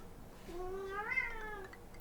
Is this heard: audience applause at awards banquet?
no